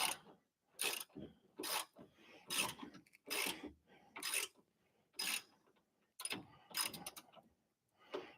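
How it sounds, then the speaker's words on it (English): A tool cleans threads on a screw, bolt and captive nut during a Miata steering rack install, producing about eleven sharp rasping strokes in a steady back-and-forth rhythm, close and distinct between short silences. "This is just to clean up threads on both the screw and just on the bolt and the captive nut."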